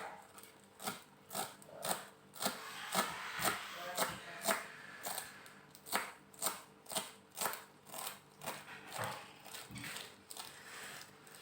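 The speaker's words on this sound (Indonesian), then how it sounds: "Kita potong daun bawang." A knife slicing spring onion leaves on a board in a home kitchen while making chicken soup, giving steady, rhythmic crisp chops about twice a second, close and clear, with a voice speaking quietly in the background.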